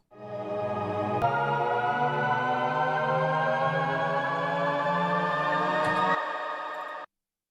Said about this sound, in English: I bounced out the pad chord that I had in the first buildup, and then I just added a pitch bend to it, so it sounds like this